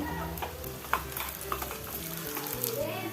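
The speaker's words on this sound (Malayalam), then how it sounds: "ഇനി ചെറിയ ഉള്ളി ഉള്ളി അരിഞ്ഞതും കൂടി ചേർത്ത് കൊടുത്ത് ഉള്ളി ഒന്ന് മൂത്ത് വരുമ്പോൾ" Chopped shallots frying in oil with mustard seeds and dried chillies: a lively close sizzle with scattered small pops and light spoon scrapes over a low steady hum, fairly quiet, no talking.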